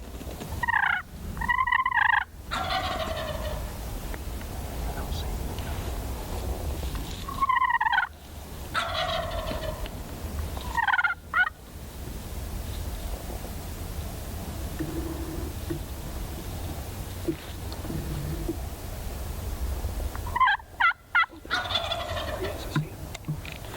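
A wild turkey gobbles four times in loud, rattling bursts from the woods during a hunt, with long quiet gaps of outdoor ambience between calls.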